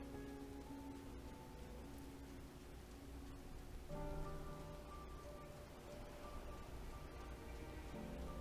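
Steady rain falls in the Thavnair zone of Final Fantasy XIV Endwalker, a soft, constant hiss beneath sustained game music.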